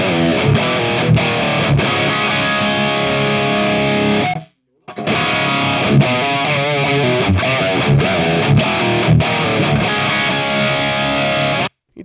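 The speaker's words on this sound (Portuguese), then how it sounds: "Sem o Noise Gate. Ó o chiado." Heavily distorted metal guitar through a Hotone Ampero 2 Stomp with no noise gate, loud continuous riffing with a brief dead stop near the middle, full-range buzzy saturation carrying a constant hiss.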